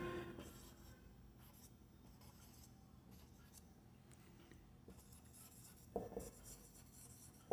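A pen scratches steadily across paper as notes are written by hand during an educational lecture, with faint continuous strokes and a couple of light taps, close and quiet with no talking.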